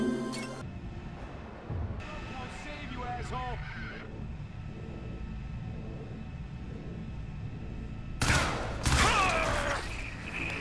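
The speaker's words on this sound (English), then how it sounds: "Here I'm shooting my way through the same segment of the game again." Gunfire in the video game Crysis 3 comes in short bursts at the start and again near the end, loud and dense. Between the bursts there are metallic clinks and chirping game effects over a steady low rumble.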